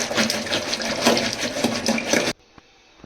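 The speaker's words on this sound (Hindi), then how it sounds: "अब इसे मदानी की सहायता से अच्छे से मथ लेते हैं।" Half a kilo of fresh curd being churned for lassi with a wooden churner, a loud continuous sloshing, whirring swirl for about two seconds before stopping abruptly, leaving near silence with a couple of faint knocks.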